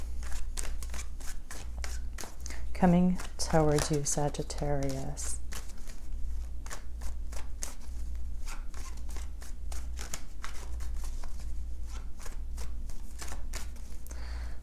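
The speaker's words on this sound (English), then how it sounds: "And let me give these a few shuffles." Tarot cards shuffled in a steady stream of crisp, evenly spaced riffling clicks over a constant low hum, with a short spoken phrase partway through.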